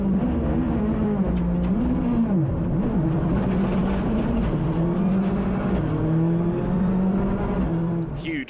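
Rally car on a narrow forest track during the Grampian Forest Rally, manoeuvring back and forth: a loud, close engine revving and dropping repeatedly as it shuffles forward and backward, without pause throughout.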